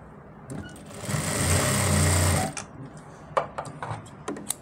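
A sewing machine stitches elastic onto ladies' pants in a steady whirring run of about a second and a half, followed by a few sharp clicks and handling noises.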